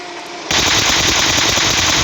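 Video game gunfire while killing an enemy, a loud sustained burst of rapid automatic shots starting suddenly and running about a second and a half without pause, with no voices.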